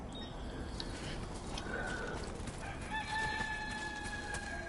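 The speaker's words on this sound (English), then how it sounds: "So a howl for night and a rooster for morning." A rooster crows in the Death Stranding 2 video game, a clear cock-a-doodle-doo call with some clucking, set over a steady ambient background and game tones, with no talk.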